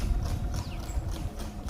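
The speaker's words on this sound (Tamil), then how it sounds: "இப்போ லாடை அடிச்சதே சவுண்டு சூப்பராக வருது." A horse walks on newly fitted horseshoes, its hooves giving crisp, close clip-clops in a quick uneven rhythm, with a faint whinny and some clinking in the background.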